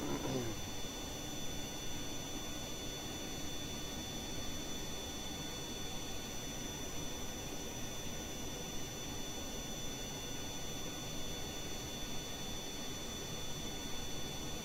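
Rocket engine held at three-quarter throttle in the Kerbal Space Program video game: a steady, dense roar with no pauses, even in level, at moderate loudness and with no talk over it.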